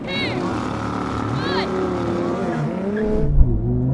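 A Lamborghini Huracan Performante, Audi R8 and Nissan GT-R launch in a drag race, engines revving and rising in pitch as they pull away, loud and close, with brief tire chirps.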